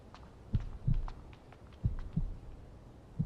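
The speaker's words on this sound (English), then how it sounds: "Heartbeats." Heartbeat sound effect in the game GFL2 Exilium, low soft thumps arriving in double-beat pairs at a slow steady pace, faint and muffled with no talk.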